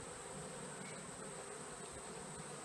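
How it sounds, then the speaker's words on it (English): Steady insect buzzing from a yellow jacket wasp hovering close around a top bar beehive in September, continuous and even throughout with a faint high whine above. "Another yellow jacket. Get out of here, yellow jacket."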